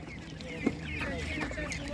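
Hens clucking at a livestock market, a brief louder squawk standing out amid steady background chatter and crowd noise.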